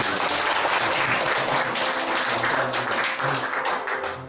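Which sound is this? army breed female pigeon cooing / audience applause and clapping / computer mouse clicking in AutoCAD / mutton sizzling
audience applause and clapping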